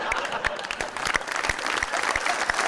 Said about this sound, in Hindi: क्यों तालियां बजाते